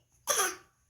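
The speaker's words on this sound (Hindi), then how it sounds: "आपको पता है कि हम सबको कैसे खांसना चाहिए, कैसे कॉफ करते हैं?" A child gives a single short, close cough, a sharp burst that fades quickly into quiet.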